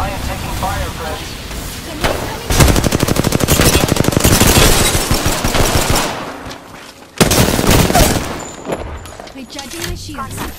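Rapid automatic gunfire in the Apex Legends video game, loud and close, bursts of sustained shooting with a brief pause near the middle before firing resumes.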